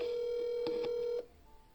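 Telephone call connecting: a steady electronic ring tone interrupted by a couple of clicks, then cut off as the call is answered.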